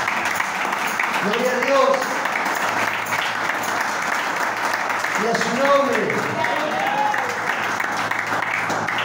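Church congregation claps steadily for the Lord throughout, a dense sustained wash of applause while a preacher's voice rises over it at moments.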